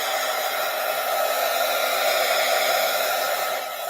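Hair dryer blowing on wet watercolor paper, a loud steady close-up whoosh with a constant motor whine, held at an even level throughout and alone without talk.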